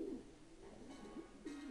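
Soft pigeon cooing from a carrier pigeon in the video game Jazzpunk, a few low warbling coos at moderate distance over a faint background hum.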